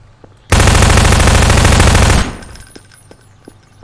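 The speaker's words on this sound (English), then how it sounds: "Oh, I shot you by accident." A long burst of rapid automatic gunfire in Garry's Mod, loud and close, lasting under two seconds before cutting off into a quieter game ambience.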